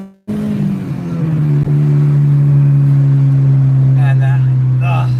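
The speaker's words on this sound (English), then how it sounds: "nothing sounds as good as a K20" A Honda Integra Type R with a K20 engine holds a loud, steady high rev after a sharp start, droning close by while a voice speaks briefly near the end.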